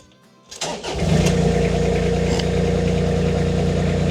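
Avant compact loader engine cranking briefly, then catching and settling into a loud, steady idle close by, running on alone without talk.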